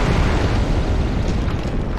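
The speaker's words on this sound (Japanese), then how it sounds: "いや、今の爆発でクレイトン普通吹っ飛ぶだろ" Explosion in the Kingdom Hearts video game, a loud, sustained rumbling blast with a thick low-end roar that fills the whole moment without easing.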